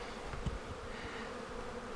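Honeybees buzzing steadily at a hive, a dense continuous hum close by, with one brief louder burst near the start and no talk.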